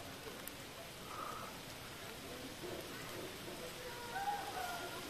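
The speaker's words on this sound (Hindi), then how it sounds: "बारिश स्टार्ट हो गई है" Rain falls steadily in Sri Lanka as a dense, even hiss with scattered patters. Faint, indistinct voices sit low beneath the downpour.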